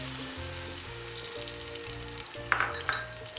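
Onions frying in ghee give a steady, even sizzle, with a few sharper crackles and pops near the end. No one speaks.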